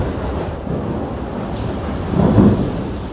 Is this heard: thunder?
yes